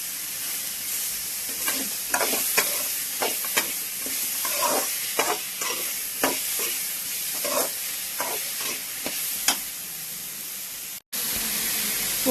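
Onion and tomato sauté with coarse salt in a pan, a steady hiss of frying under irregular spatula scrapes and taps, close by, with a brief dropout near the end and no talk.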